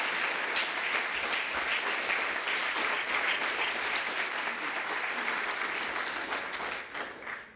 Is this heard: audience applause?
yes